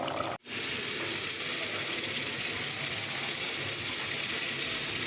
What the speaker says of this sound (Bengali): তিনটা সিটি হয়ে গেছে অলরেডি আর একটা হবে